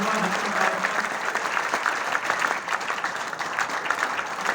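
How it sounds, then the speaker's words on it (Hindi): Loud, steady applause from an auditorium audience at a Hindi poetry recital (kavi sammelan), dense clapping filling the whole stretch without a break. "मैं चाहता हूं एक बार पूरा सभागार जोरदार तालियों से स्वागत करें"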